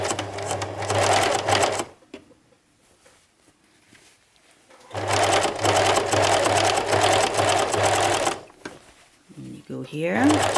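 A sewing machine stitches a small handbag in two loud, steady runs of rapid whirring with a strong low hum, separated by a quiet pause, with a brief clatter at the end.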